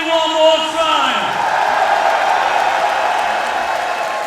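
Wrestling crowd at an indoor show applauding and cheering, a loud sustained roar with whoops after a voice speaks briefly at the start.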